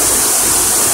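Strong, full-bodied rush of a fast river current close by, a steady broadband roar of churning water running unbroken through the brief moment with no voices.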